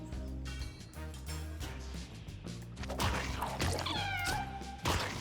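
A hunter's pet cat in a video game meows several times in clear, drawn-out calls over game music and thumping effects, with a louder meow near the end.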